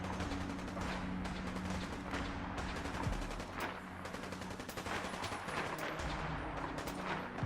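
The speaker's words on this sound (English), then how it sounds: "I was now right on top of the gunfire, and I did not want to get involved at all." Sustained gunfire in the video game Fallout 4, with dense bursts of rapid shots and booms rolling steadily across the clip, loud and continuous with no talking.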